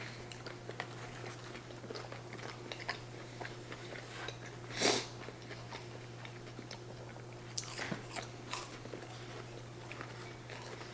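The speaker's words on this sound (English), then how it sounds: "there's just so much chewing" Chicken nuggets are chewed close to the mic during a mukbang eating challenge, giving soft, irregular wet crunches and smacks over a steady low hum, with one louder bite midway.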